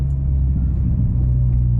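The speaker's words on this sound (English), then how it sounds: "Exhaust sounds brilliant. Little burbles." The aftermarket exhaust on a VW Golf MK4 GTI burbles in a low, steady rumble, loud and close, with faint uneven pulses in the note.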